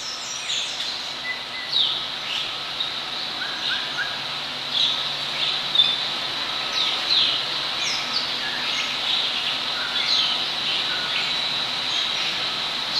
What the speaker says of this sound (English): the birds are vocalizing throughout the building